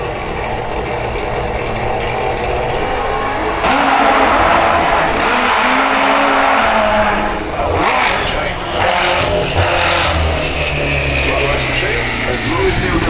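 A drag racing car makes its run at Santa Pod, a loud sustained engine roar that swells partway through, heard at a distance over crowd noise, with a commentator talking throughout.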